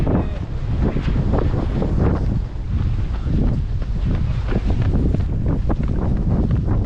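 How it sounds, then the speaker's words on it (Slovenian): Strong wind by the sea, blowing steadily and loudly across the microphone with a continuous roar throughout. "Veter nam je pomagal."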